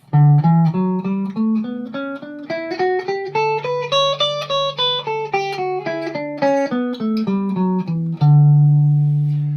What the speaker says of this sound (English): you'll in effect be playing the major scale as you do so